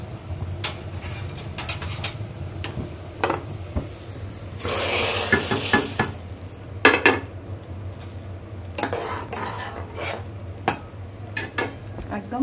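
Tempering for thin masoor dal sizzles in a pan, with a loud burst of frying in the middle and scattered metallic clinks and stirring scrapes of utensils against the pot around it.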